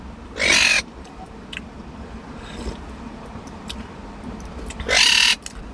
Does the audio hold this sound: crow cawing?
yes